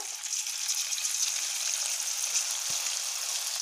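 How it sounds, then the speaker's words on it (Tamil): Onion pakoda deep frying in hot oil, a steady bright hiss and crackling sizzle that stays even and close throughout, with no voices. "இப்போ மீதம் இருக்கிறதையும் பொறிச்சு எடுத்துக்கலாங்க"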